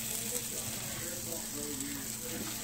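London broil beef with onions frying in a pan, a steady close sizzle and crackle filling the moment without pause.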